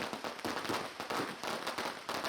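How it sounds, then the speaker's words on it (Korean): Lunar New Year firecrackers burst in a border village in Heilongjiang, northern China, as a fast run of sharp cracks and pops repeating at close range with no letup. "환경오염 문제 때문에 이제는 점점 줄어드는 추세라는 폭죽 터뜨리기"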